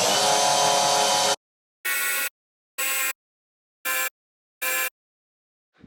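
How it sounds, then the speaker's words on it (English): Drilling out the seat fasteners of a 1984-1998 Yamaha Phazer snowmobile with a small bit: one long drill run, then four short bursts of roughly half a second each, separated by pauses, loud and close with no talk. "We're going to start with a small drill bit and just gradually work our way up"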